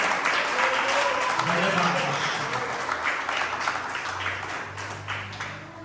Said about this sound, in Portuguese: Aplaudir mais uma vez bem forte o nome do Senhor.